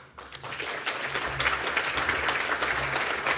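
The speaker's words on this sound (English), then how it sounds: "everyone giving applause for that" An audience at an economic and political overview forum in Adelaide breaks into applause, starting quietly and swelling to a steady, dense clapping that carries on alone.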